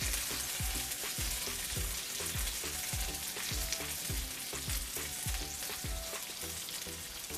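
A salmon fillet with garlic fries skin side down in a pan, a loud, even crackling sizzle with rapid popping spatters continuing throughout, close and uninterrupted by talk.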